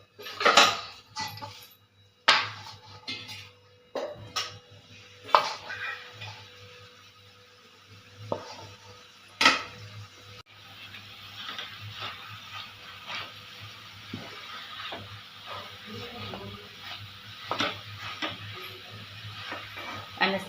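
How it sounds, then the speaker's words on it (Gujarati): Mashed sweet potato roasting in ghee in a pan, heard as intermittent scraping and clinks of a spoon against the pan over a faint background, with no talking. "2 ચમચી આપણે ઘી મૂકીને આપણે આ સક્કરિયાને શેકી લઈશું"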